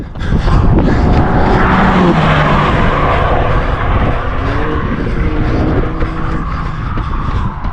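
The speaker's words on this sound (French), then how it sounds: "J'entends une voiture derrière qui monte vite." A car climbs fast up a mountain road and passes close by a runner, its loud engine roar building into a steady, dense rush that fills the whole stretch without pause.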